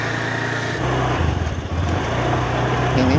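A Honda Scoopy motorbike pulls away with its small engine revving and humming steadily close by, and the pitch wavers slightly as it moves off.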